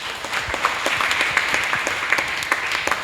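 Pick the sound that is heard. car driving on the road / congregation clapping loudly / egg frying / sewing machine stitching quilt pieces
congregation clapping loudly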